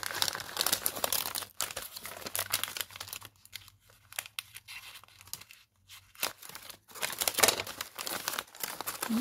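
Tissue paper wrapped around a Christmas gift crinkles and tears as it is unwrapped, close and fairly loud, with bursts of rustling broken by brief quiet pauses.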